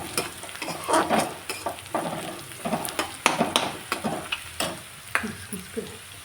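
Onion softening in a hot pan for a methi matar bhaji crackles and sizzles up close, with irregular bursts of spoon scraping and stirring clacks throughout.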